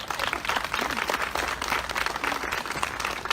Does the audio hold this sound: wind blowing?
no